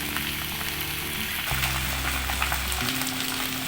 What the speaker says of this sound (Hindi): भिंडियाँ फ्राई करते वक्त इसको ज़्यादा हिलाते नहीं हैं, हर 2-3 मिनट बाद बस इसको पलटते हैं आराम से